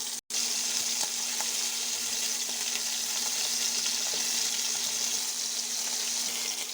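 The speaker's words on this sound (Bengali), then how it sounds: "আমি ইলিশ মাছ ভাজি করবো। মাছ ভাজি করে নিয়ে নিতেছি" Hilsa fish frying in a pan, a dense continuous hiss of hot oil sizzling close by, steady and loud throughout after a brief silent gap at the start.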